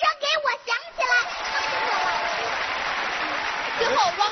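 An audience at a televised singing show breaks into loud, sustained applause that holds steady for several seconds. A lively voice speaks just before it begins and again as it fades.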